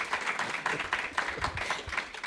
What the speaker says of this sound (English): That deserves some applause, right?